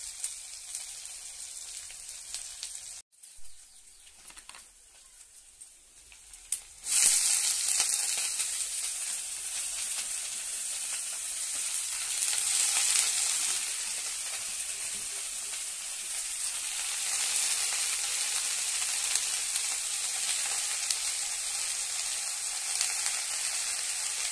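Leafy greens with eggplant and potato frying in a pan after garlic, a quiet start giving way to a steady, close sizzle that carries on evenly with faint stirring.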